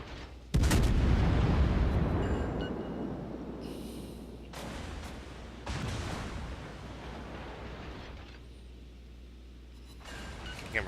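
Tier 10 cruiser main guns fire a heavy salvo in a naval warship video game, a loud booming blast that rolls into rumbling echoes, followed by further thuds and lingering low roar.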